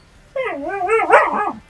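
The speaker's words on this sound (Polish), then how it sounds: "Sorry za psa." A single close, loud dog bark stretches into a drawn-out, whining yelp lasting about a second and a half, alone with no talk.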